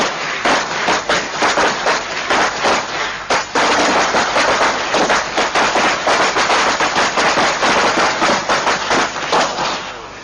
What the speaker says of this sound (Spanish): ¿Hacen siempre eso con los petardos?